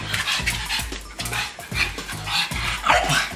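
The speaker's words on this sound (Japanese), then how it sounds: "ちょっと吠えると思うんで待ちます" A dog barks repeatedly in quick, uneven bursts, fairly close, with short yips mixed in.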